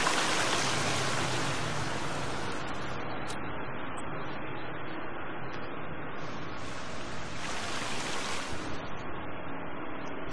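An underground river in the survival game The Forest rushes steadily inside a cave, a dense, constant wash of flowing water that swells briefly midway and runs on without any voices.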